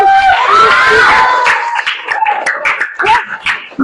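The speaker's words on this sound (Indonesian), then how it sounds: "tepuk dulu dong, tepuk tangan" A group in a classroom-style session claps along on cue, loud uneven hand claps mixed with cheering, shouted voices and a rising whoop at the start.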